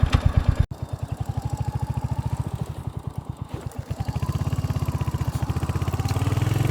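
A Royal Enfield Hunter 350 motorcycle engine runs close by with a loud, even single-cylinder thump, a sharp pop early on, then settles into a steady idle-like beat.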